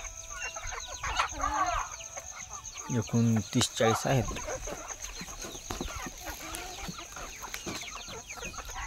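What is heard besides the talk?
native village chickens clucking on a farm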